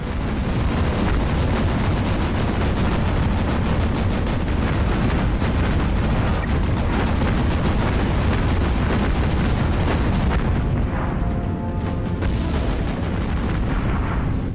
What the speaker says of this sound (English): I can get some precision shooting on this anti-aircraft installation.